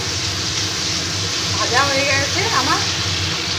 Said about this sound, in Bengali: এবার ওই তেলে আমি একটা দুটো তেজপাতা দুটো শুকনো লঙ্কা আর একটু গোটা ছিঁড়ে ফোড়ন দিয়ে দিলাম